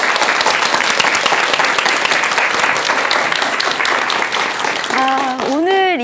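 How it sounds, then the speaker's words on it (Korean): A studio audience at a talk applauds the speaker in a loud, dense, continuous burst of clapping, and a voice starts speaking near the end as the applause goes on. "오늘 좋은 말씀 해주신 우리 정사님께 여러분 큰 박수 부탁드립니다"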